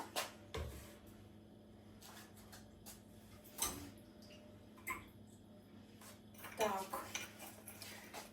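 A utensil scrapes and clinks against a pot of stuffed pepper sauce in a few sharp knocks, with quieter stirring scrapes between them in a quiet kitchen.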